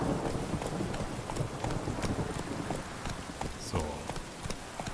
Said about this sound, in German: Richtiges Gewitter hier.